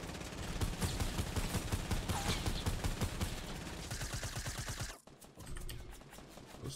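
Rapid bursts of automatic gunfire in the Fortnite Battle Royale video game, loud and nearly continuous, then a brief break and renewed fire.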